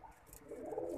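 Pigeons in a loft give a short, low cooing burr that swells slightly near the end, heard close with no voices.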